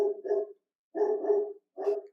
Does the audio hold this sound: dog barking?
yes